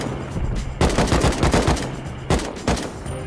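Rapid bursts of automatic gunfire from an attack helicopter's turret in a video game, two loud, close volleys of fast repeating shots separated by a brief pause.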